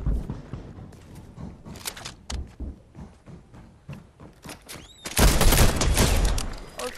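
A lever action shotgun in Fortnite fires, a loud burst lasting about two seconds near the end, after scattered softer thuds and footsteps, with someone talking.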